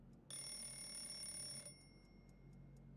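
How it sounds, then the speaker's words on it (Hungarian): Alarm clock in the video game Fallout 76 rings with a bright, sustained electronic tone for about one and a half seconds, fairly faint against quiet background hum, followed by soft ticking. "ébresztő óra"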